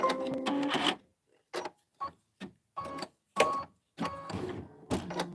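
A home embroidery machine stitches part of a June tiling scene, giving short bursts of rapid mechanical chatter separated by brief pauses, close and moderately loud, with no talk.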